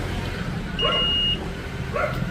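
A multimeter's continuity buzzer gives a single steady electronic beep for about half a second, clear and close, over a low background hum and a few faint knocks, while testing a welding machine with no power.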